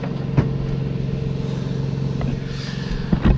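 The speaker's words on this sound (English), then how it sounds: "So Logan's up there blowing off the deck." A motorized blower runs steadily with a constant droning whine while clearing a boat deck before painting, heard from moderate distance with a few light knocks and clatters over it.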